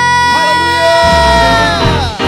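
A church congregation at a worship service cheers and shouts together, a loud sustained swell of many voices whooping and yelling, close and filling the room.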